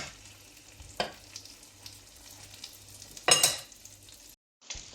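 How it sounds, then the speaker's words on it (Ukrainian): Battered cauliflower pieces crackle and sizzle steadily in hot oil, with a couple of louder bursts of spattering and a brief silence near the end. "Як ми бачимо, наша капуста смажиться."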